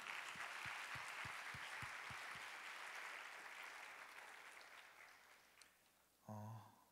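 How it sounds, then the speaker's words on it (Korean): A church congregation at a university young-adult service claps warmly and steadily, with a few rhythmic thumps early on, then the applause fades out and a single voice speaks briefly at the end. "우리 다시 한번 우리 서로를 위해서 다시 한번 뜨겁게 박수하도록 하겠습니다."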